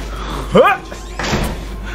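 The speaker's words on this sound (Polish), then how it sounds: "Taktyczne zamykanie drzwi." A door slams shut in the horror video game Outlast: one dull thud after a brief burst of a voice, with low game ambience underneath.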